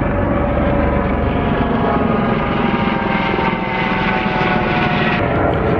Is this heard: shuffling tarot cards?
no